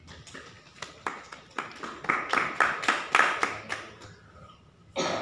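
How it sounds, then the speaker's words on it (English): Scattered clapping from a small audience at a spiritual talk builds into a series of distinct, slightly uneven claps, swelling briefly before thinning out; a voice cuts in at the very end. "you people can support me by clapping"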